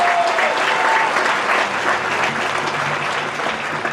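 A graduation audience claps steadily for the Longmont High School class of 2019, with dense, sustained applause that fills the room evenly throughout.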